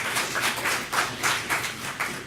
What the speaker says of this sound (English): give the coaches a huge round of applause